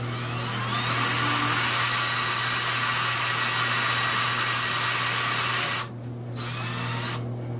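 Power drill driving a self-drilling screw into the metal casing of an evaporative cooler, a loud close whine that ramps up in pitch, holds steady for several seconds, then cuts out and gives two short final bursts.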